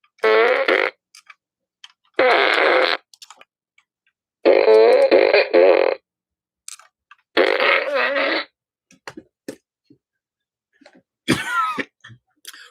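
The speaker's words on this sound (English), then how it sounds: "And Doug, here's your fart gun." A toy fart gun sounds off several times: four long, loud, buzzing flatulent blasts with pauses between them, then shorter sputters and a final squeaky burst, with no one speaking.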